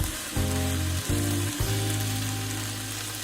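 Collard greens cook in olive oil with minced garlic, producing a close, continuous sizzle with a low tonal hum underneath and a couple of brief interruptions near the start.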